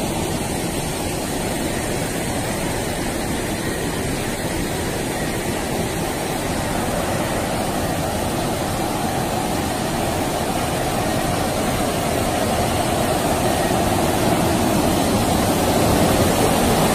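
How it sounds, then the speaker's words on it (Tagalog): A river rushes and hisses steadily in a dark, eerie ravine, loud and continuous throughout, and the roar swells slightly toward the end. Nobody speaks. "Maririnig mo yung ilog guys."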